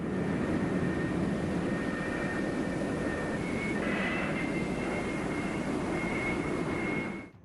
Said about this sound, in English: The flight deck director meticulously guides each aircraft into position over its assigned catapult